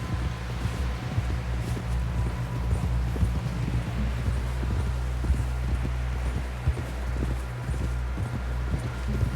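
Horse hooves clip-clop at a steady walking rhythm in Red Dead Redemption 2, a continuous close patter over a low rumble of wind and ambient noise, with no talking.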